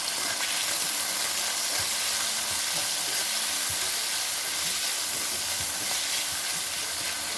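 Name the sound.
sweet potato frying in a pan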